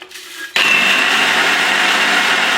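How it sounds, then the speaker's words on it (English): A blender switches on abruptly and grinds oats into oat flour with a loud, steady, high-pitched whir that runs without a break after a short quiet moment. "just buy oats and then put them in a blender"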